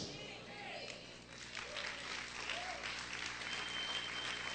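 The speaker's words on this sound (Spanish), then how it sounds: "Si ese aplauso es para el Señor, déselo fuerte." Church congregation applauding during a Spanish-language deliverance sermon, a dense wash of clapping that builds and stays steady, with a voice preaching over it.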